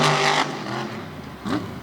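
Monster truck engine at an All Star Monster Trucks event in Jennerstown, Pennsylvania, revving hard on the throttle in a loud roar that dips and surges again in about two seconds.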